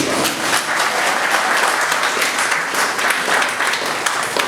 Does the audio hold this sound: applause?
yes